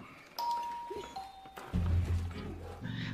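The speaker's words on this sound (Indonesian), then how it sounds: "Tidak lama, terdengar sebuah bel." A doorbell chimes twice in a family home during a meal, two clear tones in succession, followed by a low thud and rumbling background noise.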